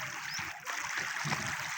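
Canal water flowing past a village livestock watering ghat after days of heavy rain, a steady, close, broadband rushing with no voices.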